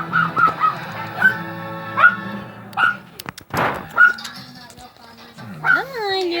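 A small puppy whimpers and yips in repeated high, thin cries, some rising and falling, close by, with a brief louder scuffle in the middle and a pause before the last drawn-out whine.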